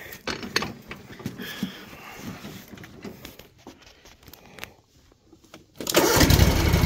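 A Cub Cadet bagger lawn tractor with a rebuilt engine being started outdoors: scattered clicks and cranking sounds, then the engine catches and runs loud and steady near the end.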